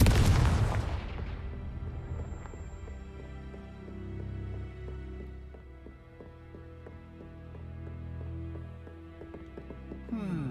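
A Confringo spell exploding in the game Hogwarts Legacy: a loud fiery burst at the start, then a ringing, resonant magical tail that fades slowly under soft background music.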